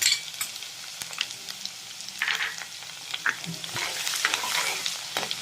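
Mustard seeds, ginger and garlic fry in a pan for a green fish curry, a steady crackling sizzle with scattered pops and light stirring scrapes, close and alone.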